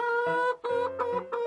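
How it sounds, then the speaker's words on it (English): A cartoon rooster crows in a few bright, tonal, stepped bursts, loud and close with a short break between phrases and no speech over it. "公鸡。"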